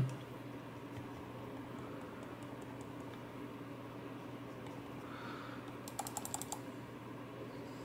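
Quiet room hum with a quick burst of sharp plastic clicks near the end as a Trust YMO wireless computer mouse is clicked rapidly several times.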